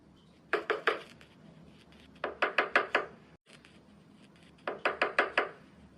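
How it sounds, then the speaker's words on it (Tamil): Knocking on a door at night, heard as three separate bursts of four or five sharp raps each, close and fairly loud against a quiet room with no talking. "யாரோ கதவு தட்டுறாங்கடா"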